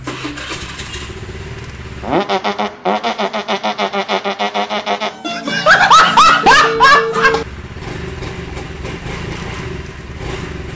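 A Rusi Pulse 150 FI motorcycle, just refilled with oil, cranks with a rapid rhythmic starter whir for about three seconds, catches and revs briefly in loud bursts, then settles into a steady idle, close and loud.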